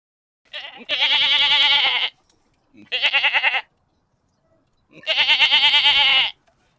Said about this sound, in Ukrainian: Коза, козел, козеня. Послухаємо їхні звуки.